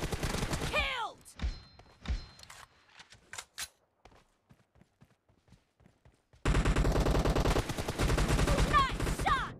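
Bursts of automatic rifle fire in a PUBG Mobile match: a few sharp shots early, scattered quieter pops and footsteps, then a loud, sustained rapid volley near the end.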